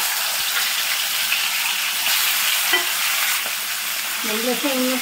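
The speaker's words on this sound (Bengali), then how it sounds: "এবার তেলটা গরম হয়ে গেছে, পমফ্রেট মাছটা ছেড়ে দিচ্ছি।" Pomfret fish fries in hot salted oil in a wok, a loud, steady close sizzle with a faint brief voice near the end.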